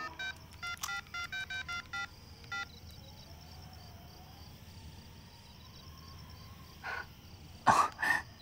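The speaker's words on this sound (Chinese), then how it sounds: "我给曾平打" A mobile phone keypad is dialed in a quick run of short electronic beeps over the first few seconds. Quiet follows with crickets chirping faintly, then a couple of brief rustling noises close by near the end.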